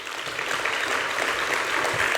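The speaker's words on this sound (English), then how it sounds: "Let's give the Youth Forum and the Ladies Forum a round of applause." Sustained audience applause at a Youth Forum and Ladies Forum event in eThekwini, a dense wash of many hands clapping steadily throughout, fairly loud and without talk.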